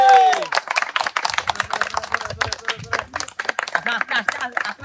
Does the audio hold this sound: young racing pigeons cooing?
no